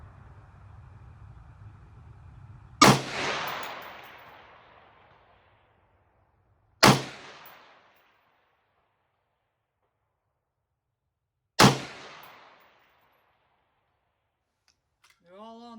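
Three sharp rifle shots from an Aero Precision AR-15 gas gun firing open tip match rounds at 540 yards, each loud crack decaying in a few seconds, spaced roughly four to five seconds apart.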